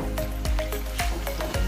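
Water is poured into a pot while cooking pansit bihon canton in a home kitchen, a short run of splashing, dripping pours and gurgles, close and moderately loud.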